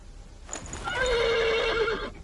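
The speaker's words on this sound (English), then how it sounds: "The horse nearly woke the guard." A horse in The Pillars of the Earth video game lets out a single loud, close whinny lasting about a second and a half, with faint hoof movement.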